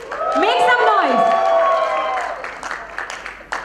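Audience at the Leo's Mr. North India 2015 pageant bursting into cheering and loud applause, with whoops and shouts over steady clapping that stays strong, then thins toward the end.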